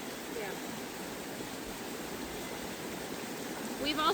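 A creek runs steadily, its broad, even rush of water holding at the same level throughout with no talk over it, growing slightly louder near the end.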